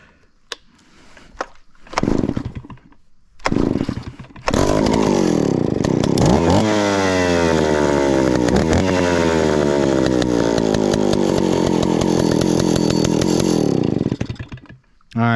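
A Stihl 041AV chainsaw is pulled a few times, sputters, then fires up and runs loud and close, revving up and holding a steady high whine for about ten seconds before cutting off.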